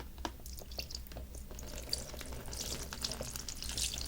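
A resin 3D-printed figure, printed on an Elegoo Saturn 2 8K, is dipped and swished in an alcohol wash bath, giving a steady watery sloshing with small drips and splashes, close and alone.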